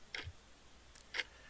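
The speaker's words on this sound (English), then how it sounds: "I guess that's the clock" A clock ticking in a quiet room, two faint, crisp ticks about a second apart against near silence.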